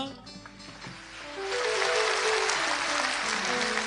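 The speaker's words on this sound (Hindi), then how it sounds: "ये खेल है और भरपूर तालियां" A stage show audience breaks into applause, starting faint and swelling into full, dense clapping halfway through that continues to the end.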